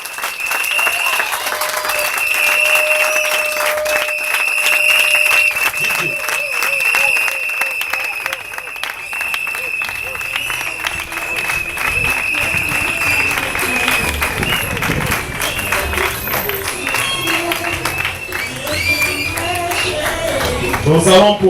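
An audience claps continuously to greet a performer walking onstage at a live show, a dense and fairly loud round of applause lasting about twenty seconds without a break.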